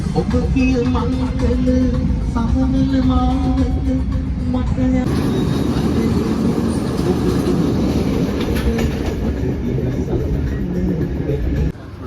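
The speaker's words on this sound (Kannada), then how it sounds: "ಅದು ಒಂದು ಬೋಗಿ ಹೋಗ್ತಾ ಇದೆ." A Sri Lankan train coach rumbles past close by, a steady heavy roar of wheels on rails with a tonal hum at first, continuous throughout.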